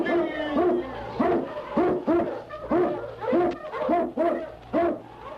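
Sled dogs bark in a radio-drama sound effect, a steady run of about nine loud, evenly spaced howling barks from the Yukon lead-dog team, close and clear over a low background hum.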